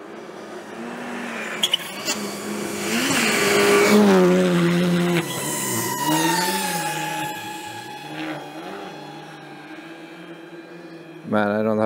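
Rally cars blast past at high speed on a stage, engines rising and falling in pitch as each one roars by, with tire noise and people talking nearby.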